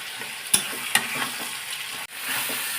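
Chopped tomatoes and winter vegetables sizzle in a frying pan for a dish with dried Bombay duck, a spoon scraping and stirring through them with a couple of sharp clacks against the pan over a steady close hiss.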